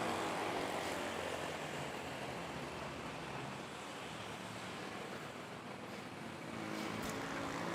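A Philippine Airlines Boeing 777 airliner at Manila's NAIA airport, pushing back at Terminal 1, with a steady broad engine roar and wash of airport noise, constant and fairly distant throughout.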